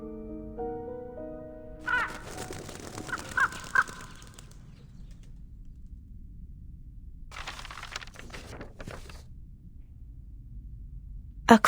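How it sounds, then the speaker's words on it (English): A crow cawing in the video game Reverse: 1999, a few harsh caws near the start over a soft musical backdrop, followed by rustling bursts of flapping and quieter ambience. "A crow?"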